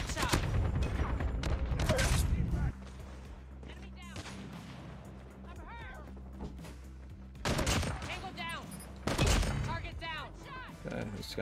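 Bursts of AK-47 automatic gunfire in Call of Duty Mobile, loud and close, with rapid rattling volleys at the start and again near the end, separated by a quieter stretch of background game noise.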